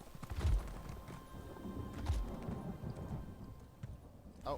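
Horse hooves clip-clopping in the video game Elder Scrolls Online, a few heavy low thuds spaced apart over a rumbling background, fairly close and moderate in loudness.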